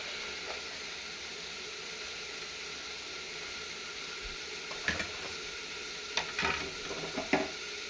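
Poori fries and puffs in hot oil, a steady close hiss of bubbling oil with a few brief louder crackles and pops near the end, no talk.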